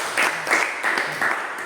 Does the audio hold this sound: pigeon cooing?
no